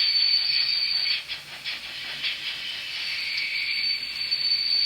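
A Fleischmann DR 44 model steam locomotive with DCC Henning sound runs past, giving a steady hissing steam chuff with faint rail clatter at moderate volume and no talk.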